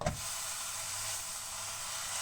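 A steady, bright sizzle of a seasoned beef roll frying in a hot dry pan, starting with a sharp hiss as it hits the surface and holding evenly throughout.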